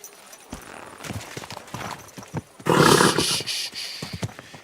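A horse in the medieval role-playing game Kingdom Come: Deliverance II gives a few hoof clops, then a sudden loud, rough burst like a snort or whinny before quieter clopping resumes.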